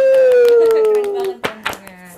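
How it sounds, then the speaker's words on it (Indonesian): Podcast hosts clap their hands close to the mic, giving a few sharp, separate claps. A sustained voiced tone sits under the claps at first. "Beri tepuk tangan dulu nggak sih?"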